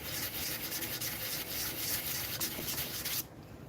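Steady abrasive rubbing of hand sanding worked in circles, a continuous close scratchy hiss that cuts off abruptly near the end, with no voices.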